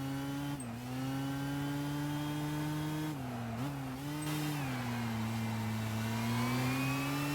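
A racing car's engine in Gran Turismo 5, a steady loud drone that dips and swells with revs through gear changes, heard alone without talk.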